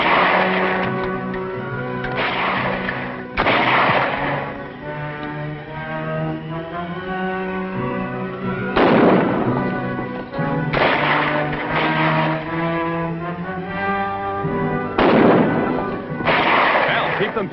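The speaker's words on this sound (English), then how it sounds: "That's gunfire." Radio drama gunfire effect: a rapid series of loud cracking shots in several bursts, interspersed with shouted voices and talk between volleys.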